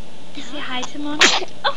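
A child gives a single quick sneeze near the end of a short moment, preceded by an adult talking gently nearby.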